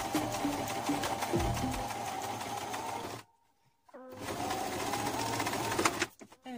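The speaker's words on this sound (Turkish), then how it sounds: "Ve tekrar dikiş payından dikmeye devam." A sewing machine stitches bias binding onto fabric in rapid, even bursts, running loud and close, stopping briefly for a near-silent pause with a faint click, then resuming before a short final stop.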